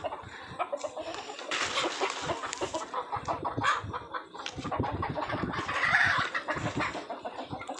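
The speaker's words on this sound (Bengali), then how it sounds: "আজকে আমাদের এই খোপে ছিল 8টা মুরগির বাচ্চা" Chickens in a coop holding eight chicks, clucking and calling in quick overlapping bursts, close and busy throughout, with rustling movement underneath.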